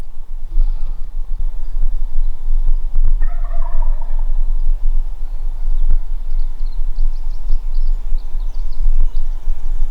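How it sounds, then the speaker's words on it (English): A wild turkey gobbles once at a distance in the Idaho spring woods, a quick rattling call, against a steady low rumble with faint birdsong and occasional knocks. "I got up here to where this bird was gobbling"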